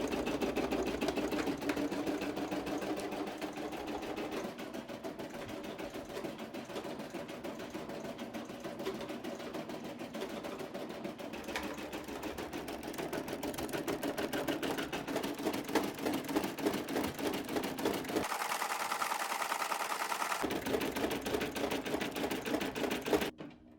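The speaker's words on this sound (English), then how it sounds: "So we're going to go ahead and put it back on the hoop and continue embroidering." A Brother SE625 embroidery machine stitches a patch with a rapid, continuous mechanical chatter, close and steady throughout, with a brief change in tone near the end before it stops.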